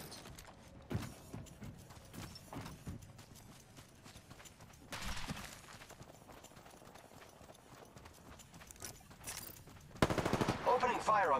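Gunfire in a battle in the video game Apex Legends: scattered, fairly faint shots and bursts at a distance, with a louder close burst of rapid fire near the end.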